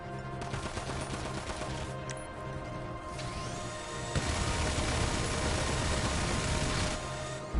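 Video game gunfire, dense rapid bursts of shots layered under continuous game sound and music, growing heavier partway through.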